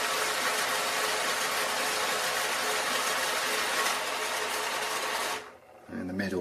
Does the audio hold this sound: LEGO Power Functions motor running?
yes